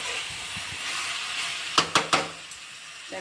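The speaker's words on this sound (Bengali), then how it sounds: "দেখো এখানে আমি ভালো করে কষিয়ে নেব" Chicken sautéed in a pan for a Bengali-style home-made curry gives a steady sizzling hiss, with a few sharp clinks of a spoon against the pan partway through.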